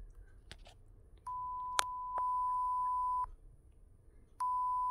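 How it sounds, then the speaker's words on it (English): A steady electronic censor beep from an editing app's sound effects, sounding in three long sustained tones separated by short gaps over a quiet background, with a couple of faint clicks. "go to audio, sound effects, and find the beep sound"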